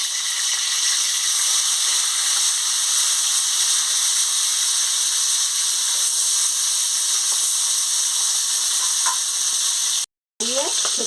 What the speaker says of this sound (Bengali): মাছের মাথাগুলো ভাজা হতে হতে আমি আদাটা থেতো করে নিচ্ছি